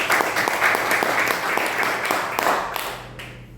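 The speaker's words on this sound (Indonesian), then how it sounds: "tepuk tangan untuk One Diamond Indonesia" Applause from a seated audience at an Indonesian health and wellness business seminar, a loud, dense patter of many hands clapping with some distinct individual claps, tapering off near the end.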